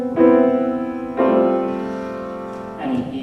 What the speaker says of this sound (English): the whole thing is on this two-chord pattern that sounds like this